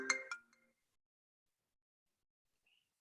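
Phone ringtone from an incoming call: a short, bright melodic burst lasting under half a second, then near silence with a faint chime at the end.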